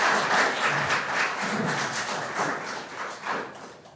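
An audience at a city council meeting claps in a sustained, dense wash of applause that stays fairly loud and even, fading slightly toward the end.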